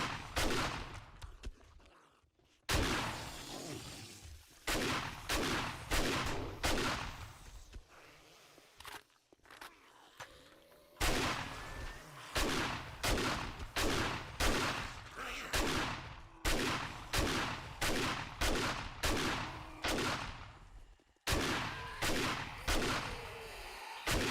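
Shotgun blasts in the survival game 7 Days To Die, loud and close, fired in steady rhythmic volleys with brief gaps and a few longer pauses for reloading, with faint movement noise between shots.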